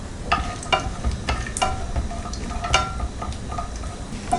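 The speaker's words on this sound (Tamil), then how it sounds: "முந்திரி நல்லா ஃப்ரை ஆகிடுச்சு." Cashews frying in a pan for green peas pulao, a steady close sizzle broken by repeated light taps and scrapes of a stirring spoon.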